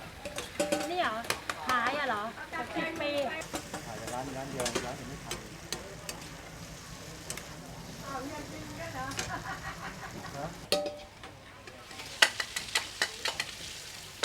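Thai-Chinese street food sizzling as it fries in pork fat at a Bangkok morning market, with steady crackling, scraping utensils and clinking pans close by, voices talking over the cooking.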